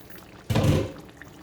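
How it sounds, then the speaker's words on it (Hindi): A short splash of half a cup of water poured into a pot of Hyderabadi masala chicken, lasting about a quarter second, close by with quiet surroundings. "आधा कप पानी डाल दें इसमें।"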